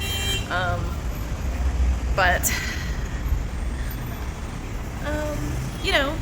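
Busy street traffic in Liberia, with a steady roar of passing vehicles broken by several short car horn toots spread across the scene, while a person speaks briefly.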